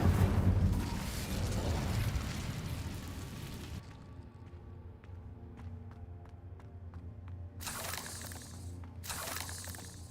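An Incendio fire spell cast in a video game: a loud roaring whoosh and fiery burst at the start that fades to a quiet, echoing tail with faint tinkling, followed by two more sharp crackling bursts near the end.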